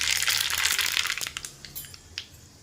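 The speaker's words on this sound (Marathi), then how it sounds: "तक्कूला तडका देण्यासाठी इथे मी तेल गरम करून घेतलेलं आहे। यामध्ये अर्धा चमचा मोहरी टाकून घ्यायची" Half a spoon of mustard seeds hits hot oil for a tempering, bursting into a loud close crackle and sizzle that quickly thins out into scattered pops.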